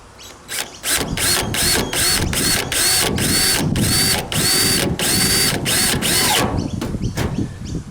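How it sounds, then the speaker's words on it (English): A drill drives a screw through Blue Mountain gutter guard mesh onto a Trimdek roof in a series of loud, close, whirring bursts of roughly half a second each, with short pauses between them. "So have a screw in your drill ready to go."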